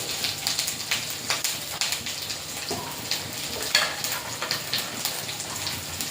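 Ginger, turmeric, chili and cumin frying in a pan with onions for a Bengali home-cooked lunch, a steady close sizzle and crackle with light spattering pops and no talking.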